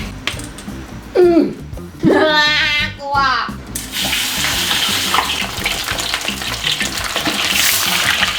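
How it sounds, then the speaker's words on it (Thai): Pork leg drops into hot oil for deep-frying, and a loud, dense bubbling sizzle swells and holds steady after a few seconds of voices talking over softer background. "ทุกคนเขากำลังจะทอดขาหมูแล้วนะ"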